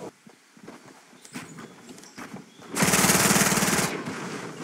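Rapid P90 submachine gun burst in Fortnite, a loud dense rattle lasting about a second after quieter game sounds and scattered thumps, with no talking.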